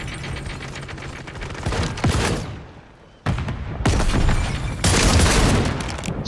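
Dual shotguns blast in a Call of Duty match, heavy booming shots layered into dense close-range volleys, with a brief lull before loud rapid firing resumes.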